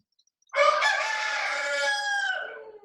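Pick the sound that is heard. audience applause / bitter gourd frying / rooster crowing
rooster crowing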